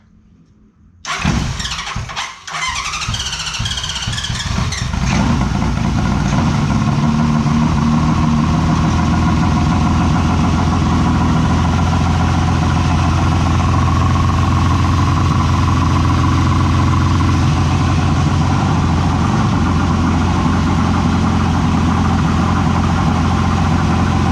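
A Honda CB750 motorcycle, revived after sitting on a battery charger, cranks with the starter for a few seconds, catches, and settles into a loud, steady idle that keeps running close by without talk.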